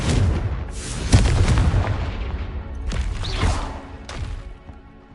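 Confringo spell explosions in the Hogwarts Legacy video game, several loud booming blasts in quick succession, each with a rushing burst and fading rumble.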